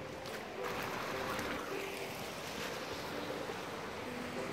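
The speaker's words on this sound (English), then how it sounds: "Sounds like the river's really up." Continuous broadband rush of a swollen river torrent on a foggy morning, a steady roar heard from some distance, quiet and unbroken throughout.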